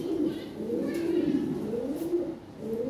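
Lahori Sirazi pigeons coo nearby in low, rolling, overlapping calls that continue without a break.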